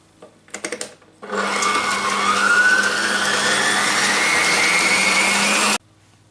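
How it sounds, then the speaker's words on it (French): An electric hand mixer whisks eggs with sugar for a Brazilian chocolate cake batter, whirring loudly and steadily for several seconds after a few brief starts, then cutting off abruptly. "Et on va fouetter tout ça jusqu'à ce que ça triple de volume."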